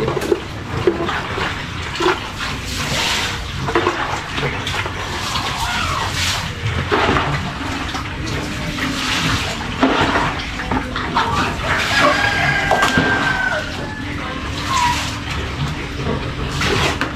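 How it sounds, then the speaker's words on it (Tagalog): Water from a bucket splashes and gushes steadily into animal feed, a sustained rushing pour lasting many seconds with some clatter, close by. "Talagyan pa natin ng sabaw yan ng kalahating baldeng tubig."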